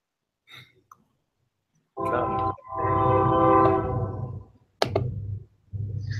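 A loud train horn sounds in long blasts, separated by brief gaps and a sharp click, sounding somewhat muffled as if carried over a phone line.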